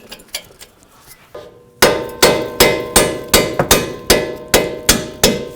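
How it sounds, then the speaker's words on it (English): Sharp metallic hammer strikes ring out in a steady rhythm, about a dozen blows close by driving bolts out during CV axle replacement on a 2006-2011 Chevrolet HHR, after a few quieter taps at the start. "Then we'll grab our hammer and drive the bolts out of here"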